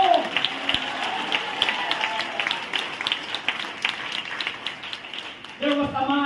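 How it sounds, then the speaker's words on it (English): A church congregation claps their hands in worship, a dense patter of hand claps running steadily under a preacher's voice, with musical tones entering near the end. "Clap your hands unto the Lord."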